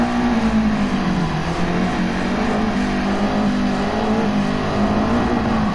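A Toyota MR2 GT-S with a 2-litre 16-valve turbocharged mid-mounted engine accelerates hard in Gran Turismo 7, a loud, steady droning engine note heard from the cockpit, holding a high sustained pitch with slight waver.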